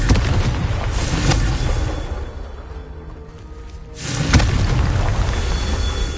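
Confringo fire spell blasts in Hogwarts Legacy, a loud, dense boom that rumbles on, dips briefly, then swells again with a second heavy burst.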